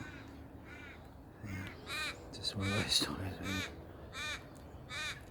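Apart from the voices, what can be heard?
crows cawing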